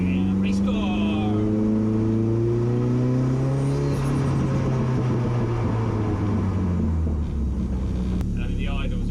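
A twin turbo Ford Fiesta race car engine revs loudly up close, its pitch climbing and falling in sustained sweeps before settling, with a voice briefly heard.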